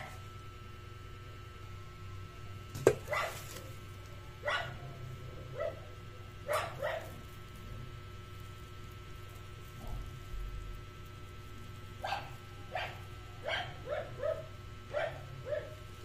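Dog barks in short scattered bursts from some distance, a few early ones then a run of quicker yips near the end, over a steady low hum and background noise with no talking.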